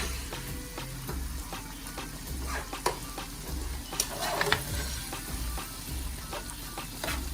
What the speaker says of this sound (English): And then we just saute that around